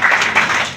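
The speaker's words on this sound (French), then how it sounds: "voici la remplaçante qu'on applaudit chaleureusement" An audience applauds warmly to welcome a stand-in presenter at an educational event, a brief, dense burst of clapping that stays loud and even throughout.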